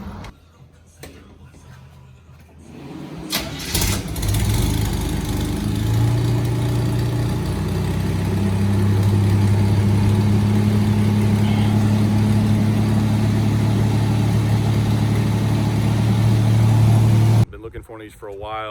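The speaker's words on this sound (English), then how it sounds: "I've got Jeeps driving by in the background." Engine noise from Jeeps passing outside a shop: a steady low engine drone builds and holds loud for about fifteen seconds, then cuts off sharply, with a brief burst of noise near the start.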